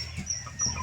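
Tiger breed chickens on a chicken farm, young birds of about 1.5 kg, give short clucks and calls close by, with no voices.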